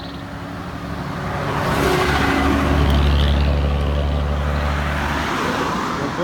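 A car drives along a road, its engine and tyre roar building to a loud, steady rumble that holds near the listener throughout.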